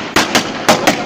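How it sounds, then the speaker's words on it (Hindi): Four sharp, loud bangs burst in quick succession, spaced in two pairs, crackling close by like firecrackers going off, during a Holi celebration in India. "दिवाली वाले पटाखे चला रहा हूँ मैं ऐसे"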